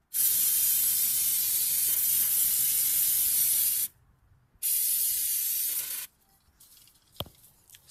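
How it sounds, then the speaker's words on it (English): Long, loud hissing sprays from an aerosol cleaner can, one sustained burst then a second shorter one, followed by faint handling clicks, while cleaning a 1999 Honda Civic EX engine during a distributor O-ring change. "Just spray everything down."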